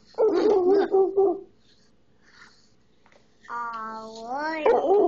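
A small voice yips and whines in imitation of a dog, after a brief stretch of talking.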